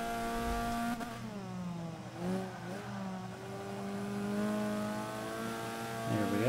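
A C Class Alfa Romeo in Forza 5 revs hard as it accelerates, its engine note climbing in rising harmonic sweeps, dipping briefly around a gear change, then pulling up again, loud and close throughout.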